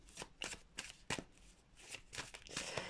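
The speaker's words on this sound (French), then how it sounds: "je vais tirer une dernière carte" Tarot cards riffle and slide close by in a quick, crisp flurry of shuffling, brief and quiet, as one card is drawn from the deck.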